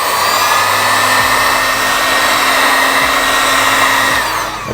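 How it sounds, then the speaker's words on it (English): A heat gun blows loudly and steadily while softening vinyl wrap on a car, a close, constant whirring roar with a slight hum that drops away at the very end. "I am using the heat gun now just to really melt the vinyl in place"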